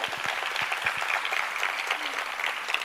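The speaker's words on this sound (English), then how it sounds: "can you give her a round of applause?" A round of applause at a matric awards ceremony: steady, moderately loud clapping from an audience, with a few sharper individual claps standing out near the front.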